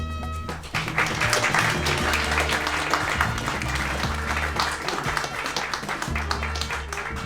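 A lecture audience applauds at the close of a talk on open borders and economics. The clapping is steady and fairly dense, heard from within the hall for several seconds without speech.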